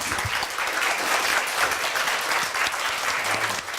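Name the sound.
audience applause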